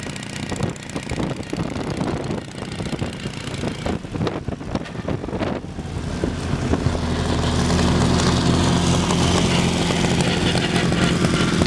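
A BMW R 32 pre-war motorcycle engine running rich and unevenly, its burbling, slightly stumbling exhaust rising to a steadier, louder drone near the end.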